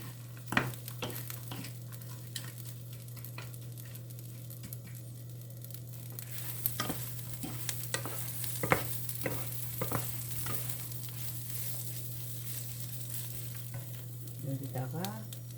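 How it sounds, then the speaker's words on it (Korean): Shishito peppers and anchovies stir-frying in a pan, a steady close sizzle with scraping stirs and light clatter throughout, no talking. "소금을 조금 더 넣어서 볶았고"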